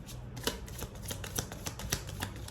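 Osho Zen tarot cards are shuffled in a brief, close flurry of riffling and flicking snaps, with no voices.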